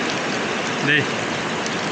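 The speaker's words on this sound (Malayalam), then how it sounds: "ഇനി മഴ കഴിഞ്ഞിട്ട് വേണം വീഡിയോ എൻഡാക്കാൻ. നല്ല മഴ." Heavy rain pours steadily near a hidden Murugan temple in Kerala, a dense, even hiss that runs unbroken through the whole moment, with a faint low murmur briefly rising in the middle.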